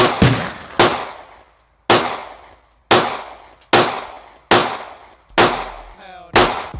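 An AR-15 rifle with a 7-inch barrel fires at a gun range, eight loud, sharp single shots spaced about a second apart, each ringing out with a quick decaying echo, close and alone without talk.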